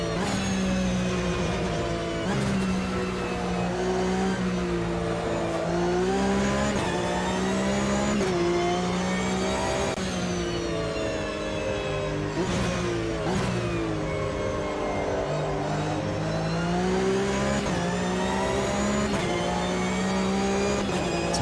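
Several Porsche race cars battle wheel to wheel on the Bathurst circuit in Automobilista 2, their engines droning loudly and continuously with rising and falling revs as they jostle close together.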